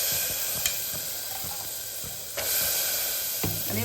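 Masala frying in oil for karamani rice, a steady close sizzling hiss running throughout with a few soft stirring knocks, no voices.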